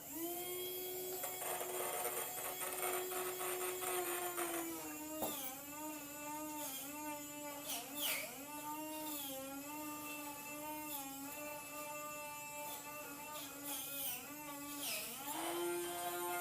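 A small electric motor drives a model cable car uphill along a string, giving a thin, whining buzz with shifting pitch that runs steadily throughout, broken by occasional clicks and rattles, close and fairly quiet.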